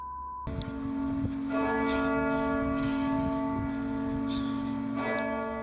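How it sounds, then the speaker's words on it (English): A large early Gothic-style cathedral bell tolls loud and resonant, with a long ringing hum that sustains and swells, and a second strike lands near the end. "the cathedral's bell tolls ominously in the background"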